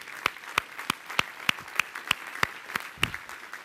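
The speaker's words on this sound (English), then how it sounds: "Could you all just stand up and give a round of applause to the rest of the speakers today in the foundation?" A small number of people clap at a steady, even pace for the day's speakers at a foundation event, with crisp, separate hand claps close by and no talking.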